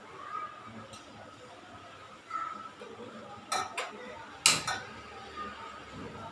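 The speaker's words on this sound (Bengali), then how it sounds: "চলেন কড়াই বসিয়ে দিচ্ছি" A wok set onto a home stove while cooking lemon rice, with a few metallic clanks and clinks of pans and utensils against a quiet kitchen background.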